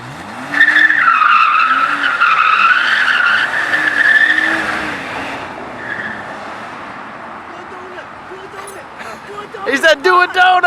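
A car spins a donut with its tires squealing and skidding loudly for several seconds while the engine roars nearby, then a few sharp noises at the end.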